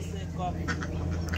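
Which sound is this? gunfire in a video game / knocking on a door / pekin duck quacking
pekin duck quacking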